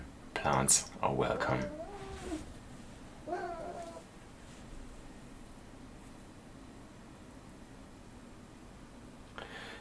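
A pet cat meows indoors, wanting to go outside: two drawn-out, wavering calls at moderate volume, following a moment of speech, then quiet room tone.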